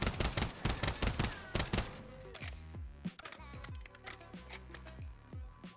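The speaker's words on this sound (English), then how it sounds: "I'm not gonna touch the joystick, I'm just gonna shoot. I'm gonna shoot as fast as I can." Rapid gunfire from an SVA 545 rifle in the video game Warzone, a dense burst of quick shots in the first seconds thinning into scattered, ringing reports and mechanical clatter, loud and close with no talking.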